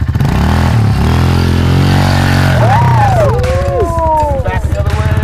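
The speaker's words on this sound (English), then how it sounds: "To do the turnout, we're gonna have some throttle control applied with the clutch at the same time." A motorcycle engine revs loud and close as throttle is worked against the clutch for a low-speed turnout, the pitch rising and sweeping up and down in bursts.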